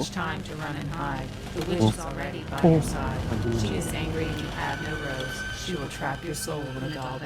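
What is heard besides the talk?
No everyday noise stands out behind the speech.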